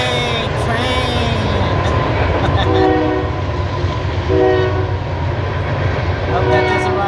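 A train rolls past with repeated horn blasts sounding over the heavy rumble of the cars, loud and close, with people talking faintly beneath it.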